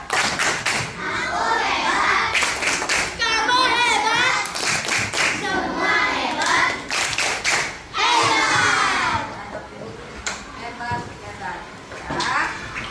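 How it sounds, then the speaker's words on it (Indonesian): Children in a classroom clap a rhythmic 'tepuk hebat' chant, sharp hand claps and thumps in quick patterns mixed with young voices chanting and a teacher talking close by. "Tepuk hebat."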